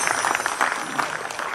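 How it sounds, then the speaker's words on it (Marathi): Audience at a live comedy show in a Navi Mumbai theatre applauds the musicians with a dense, even patter of clapping that holds steady throughout. "यांच्यासाठी जोरदार टाळ्या होऊ द्या"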